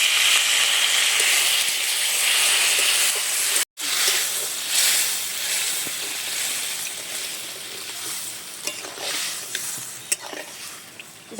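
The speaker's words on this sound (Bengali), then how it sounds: "এবারে দিয়ে দিচ্ছি পরিমাণ মতো জল।" Water poured into a frying pan of spices that were cooked down in oil for a fish curry, giving a steady loud hiss and sizzle with stirring scrapes and a brief break partway through.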